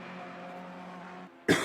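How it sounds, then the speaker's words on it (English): A single short, sharp cough bursts out near the end, close and loud, after a steady engine-like drone from a GT racing game at Brands Hatch fades away. "Sorry about my cough."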